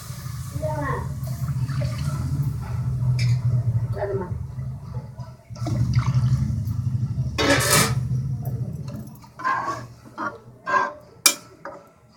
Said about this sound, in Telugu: అంత నీళ్ళు పోసేలా అన్నీ 3 గ్లాసులు నీళ్ళు పోయాలి